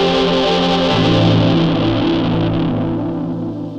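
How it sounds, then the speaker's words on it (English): A Korg i3 music workstation sustains a thick, distorted synth tone swept by a phaser effect, loud and continuous before gradually fading toward the end, with no voices. "And a phaser on the effects 1."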